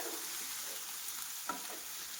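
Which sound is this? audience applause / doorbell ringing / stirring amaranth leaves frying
stirring amaranth leaves frying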